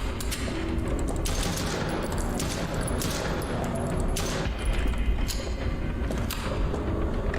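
Rapid gunfire bursts in a horror hospital video game, dense overlapping shots and thuds running continuously and loudly throughout with no pauses.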